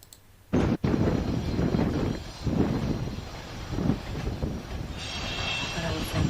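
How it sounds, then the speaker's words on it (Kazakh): Railway cars are pushed up a marshalling yard hump, a loud continuous rumble of wheels and rolling stock with an abrupt clank near the start and faint squeal-like tones later, no speech. "Екінші, құрамды төбешік төбесіне итеру."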